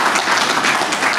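A banquet audience at the South Carolina State 1973 football team's 50th anniversary gathering breaks into applause, a short, loud, steady burst of many hands clapping.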